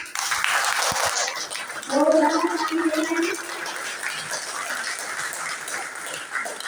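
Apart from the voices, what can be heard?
audience clapping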